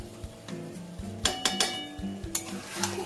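Young goat meat stirred and browned in a pan for a red curry, with repeated utensil scrapes and metallic clinks against the pan over a low sizzle, no voices.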